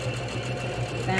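Sewing machine running steadily while backstitching the lining of a toiletry/makeup box pouch, a continuous close mechanical hum with low rhythmic stitching pulses.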